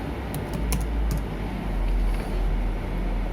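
Typing on a computer keyboard while entering an app search on a PC, a few quick, faint clicks over a steady low background hum.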